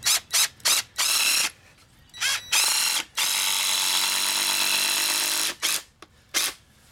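A power driver drives screws into Advantech subfloor board in a series of short, loud whirring bursts, followed by one sustained run of about two and a half seconds and two more quick bursts.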